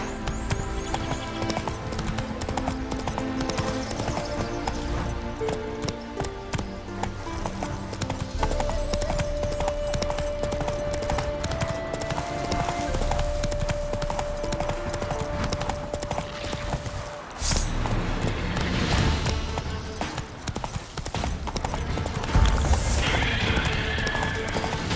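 Hoofbeats of the horse Roach in The Witcher 3 clip-clop steadily at a run beneath a continuous game soundtrack, with a whinny heard along the way.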